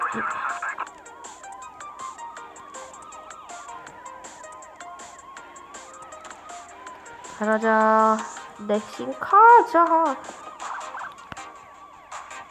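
Wailing electronic police sirens overlapping in a car-versus-cops video game soundtrack, warbling steadily with louder blasts near the end while a person talks over them.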